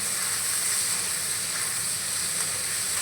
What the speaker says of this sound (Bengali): আলুটাকে আমি লাল লাল করে ভেজে নেব।